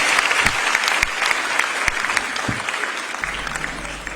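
An audience at a state-level International Women's Day ceremony in Jaipur applauds after a speech, a sustained, loud, dense clapping that stays steady and begins to thin near the end.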